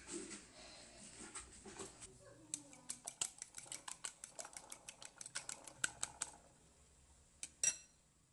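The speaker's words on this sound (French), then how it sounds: "je mélange bien avec la fourchette" Eggs with finely chopped coriander, salt and pepper being beaten in a bowl with a fork, giving a quick run of light, rhythmic clicking taps close by and faint, ending with a couple of sharper knocks.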